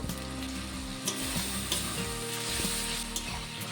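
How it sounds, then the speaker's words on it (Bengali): Cumin and black pepper paste fries in a pan for a chicken and chickpea curry, giving a steady, close sizzle with soft stirring and no talk. "জিরে বাটাটাকে দিয়েও আমি কিছুক্ষণ রান্না করে নেব"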